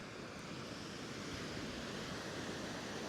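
Indian Ocean waves wash onto the Sri Lankan shore in a continuous, broad rushing roar, steady and moderately distant, with no voices.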